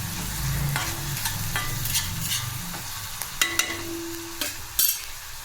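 Green chili and garlic paste frying in hot oil in a pan, a steady close sizzle with a few sharp clicks of a spoon stirring near the end.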